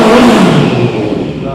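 A motorcycle with a full-system exhaust revs loudly and close, a dense, throaty engine roar that holds steady and tapers slightly across the short burst, with no voices over it.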